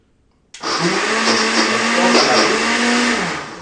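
Countertop blender whirring loudly through a vegan foie gras mixture, a steady motor roar that starts abruptly from silence and holds for about three seconds, its pitch wavering slightly as a spatula stirs the contents; no talking.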